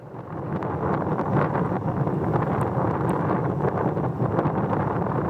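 Steady wind blowing outdoors, producing a continuous, loud rumbling buffet across the microphone that builds quickly and holds for several seconds with no talk.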